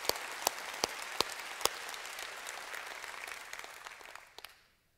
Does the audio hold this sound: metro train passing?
no